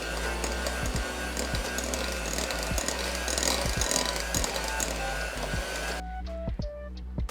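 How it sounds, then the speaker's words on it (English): A blender runs steadily, mixing keto chocolate muffin batter, with a continuous loud motor whir that cuts off near the end, leaving a few faint clinks. "now let's blend that together as well."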